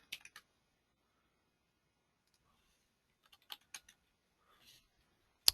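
Short bursts of keyboard typing at a computer, a quick cluster of keystrokes at the start, another few taps past the midpoint, and a sharp louder click at the end, quiet and close with silence between.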